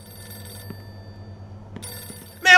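Telephone ringing in the video game Mafia 2, two short bell rings separated by a pause over quiet game ambience, followed by a louder burst at the end.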